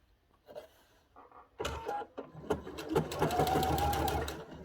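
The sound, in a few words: sewing machine stitching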